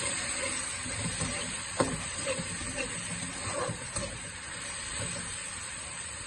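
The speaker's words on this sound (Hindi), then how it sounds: "इन टमाटरों की भी मैं 1 से 2 मिनट तक अच्छी तरह भुनाई करूँगा।" Chopped tomatoes fry in a pan for a Pakistani home-style cabbage curry, making a soft, continuous sizzling hiss with occasional faint stirring ticks and no voices.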